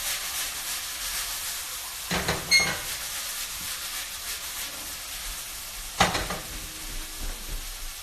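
Food frying in a hot pan, a steady close hiss and sizzle throughout, with a couple of louder bursts of spattering and stirring scrapes, heard alone without talking.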